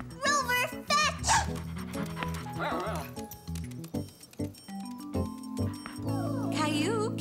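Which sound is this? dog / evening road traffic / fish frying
dog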